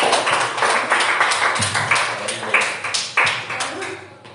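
A church congregation claps in praise, a dense run of many hands slapping in quick uneven rhythm, loud and close, with voices mixed in.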